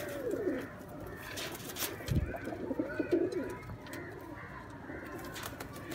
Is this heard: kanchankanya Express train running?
no